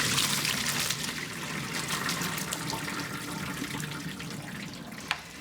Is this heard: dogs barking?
no